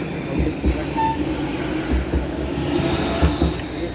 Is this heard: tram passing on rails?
yes